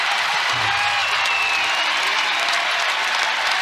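A sold-out basketball arena crowd of over ten thousand at a UConn vs Notre Dame women's college game cheers and applauds after a Huskies fast-break score, a loud, steady roar of clapping and shouting.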